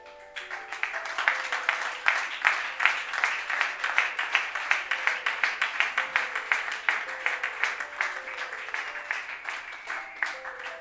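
A church congregation breaks into sustained applause that settles into rhythmic, steady clapping, loud and full, with faint sustained tones in the background.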